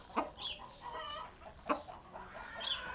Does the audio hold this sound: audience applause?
no